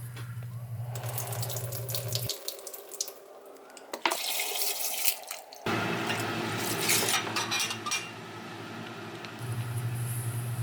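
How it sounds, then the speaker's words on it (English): Distilled water streams and splashes as it rinses metal granules into a glass beaker during small-scale silver and gold recovery work, a close, hissing pour that starts and stops in several bursts. "And then I use some distilled water to rinse off the granules,"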